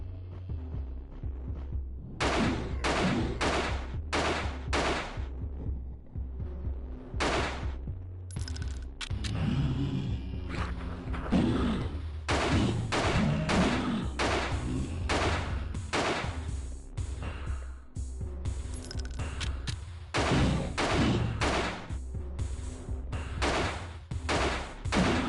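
Pistol shots fire one after another in the New Nightmare video game: sharp, loud cracks in quick bursts with brief pauses, over a steady low hum and rumble.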